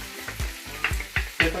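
Chicken pieces for a Filipino chicken adobo browning in a hot pan, with a steady close sizzle broken by four or five louder bursts of stirring and spatter at a roughly even rhythm, no voices.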